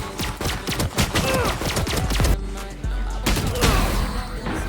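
Rapid gunfire from a Valorant match, dense bursts of loud shots fired in quick succession with a brief lull before more shooting resumes.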